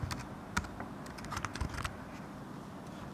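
Command being typed on a computer keyboard, a close run of quick key clicks that bunches up in the first half and thins out toward the end.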